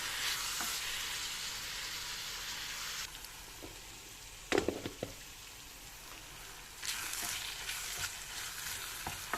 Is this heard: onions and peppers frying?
yes